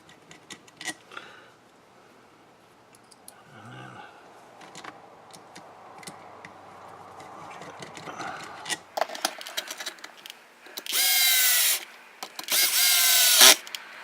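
A power drill with its clutch set at the lowest setting drives screws while building an Arrma Outcast/Kraton RC car, with soft handling clicks and rattles followed by two loud, close whirring bursts that end in clutch ratcheting.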